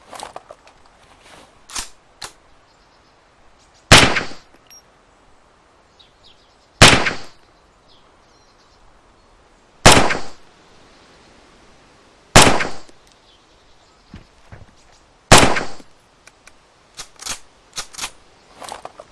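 Five sharp, loud rifle shots from a Mosin Nagant-type rifle in the video game IFA3 WarMod ring out one at a time, spaced roughly three seconds apart. Soft mechanical clicks and handling noises fill the gaps between shots.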